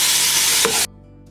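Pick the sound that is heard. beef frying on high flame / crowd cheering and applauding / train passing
beef frying on high flame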